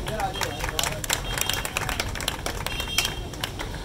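An audience claps to welcome a guest at a gathering for a store's Umrah ticket prize draw. Brisk, uneven clapping runs throughout beneath a speaking voice.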